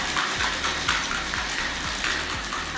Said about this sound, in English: We're going to shake that up.